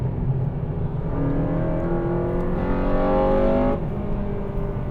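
Car being driven on a racetrack, a steady, loud engine drone with rising and falling whine as it runs at speed, heard from inside the car with no talking.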